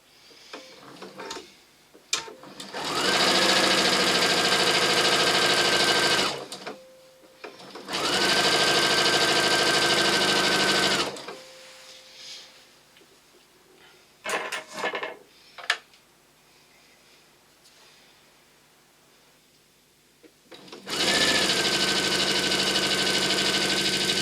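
Sewing machine stitching fabric edges together at a calm pace, three sustained runs of the motor separated by pauses filled with light handling clicks and rustles.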